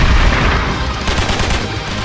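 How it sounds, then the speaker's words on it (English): Gunfire in an animated short film about a school bully rattles as a loud, dense, continuous burst of rapid shots with a booming low end. "Why are they shooting me?"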